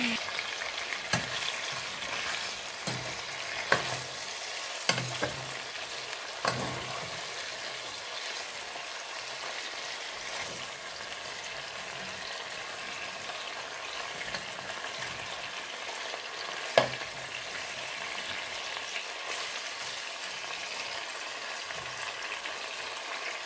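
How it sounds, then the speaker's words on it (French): Meat fries with softened onions in a pot, giving a steady, even sizzle throughout, with a few spoon knocks and stirring clatters near the start and one sharp tap later. "Je vais rajouter la viande."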